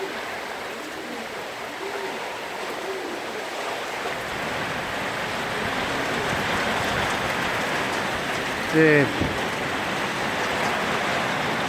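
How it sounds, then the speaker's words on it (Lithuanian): Hail falling outdoors on an April afternoon around homing pigeons, a dense steady patter of hailstones that grows slightly heavier partway through, with a brief voice speaking once near the end. "Kruša."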